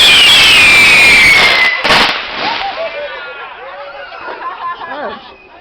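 New Year's fireworks: a rising whistle followed by sharp bursts and crackling pops, loud at first and then fading into scattered echoes, with people chattering in the background.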